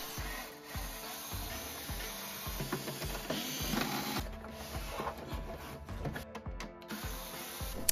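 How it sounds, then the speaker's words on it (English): Screws are being backed out of the underside of a JBL PartyBox Encore Essential speaker during a teardown, giving a steady run of close, rhythmic mechanical clicks and ratcheting ticks with no talking. "there are 12 screws on the bottom that will need to be removed."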